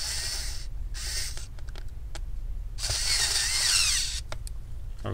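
Screws are driven into a Dell Inspiron 15 7000 Series laptop during a keyboard replacement, with whirring and ratcheting bursts from a small screwdriver, close and fairly loud, separated by short pauses.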